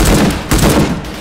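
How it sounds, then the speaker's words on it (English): Gunfire in the VR shooter H3VR, a few sharp shots in quick succession with a broad, punchy attack, loud and close, and no talking. "See how many shots this takes."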